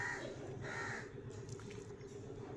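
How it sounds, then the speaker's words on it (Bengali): A crow gives harsh caws, with two or three rasping calls heard fairly close over a low hum of background noise, all at quiet volume. "কাক"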